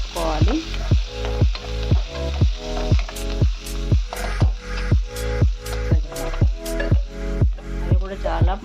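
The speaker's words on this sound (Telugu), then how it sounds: "తర్వాత కొత్తిమీర, కరివేపాకు వేసుకొని ఫ్రై అయ్యేలా కలుపుకోవాలి." Vermicelli upma fries in a pan with coriander and curry leaves, a close, steady sizzle broken by regular scraping strokes of the stirring spoon, about two each second.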